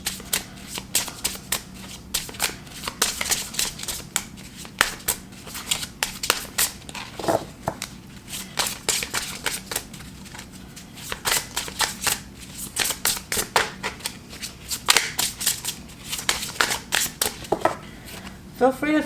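Tarot cards are shuffled steadily by hand in a dense, continuous run of crisp riffling and flicking, close and fairly loud, with brief pauses between bursts.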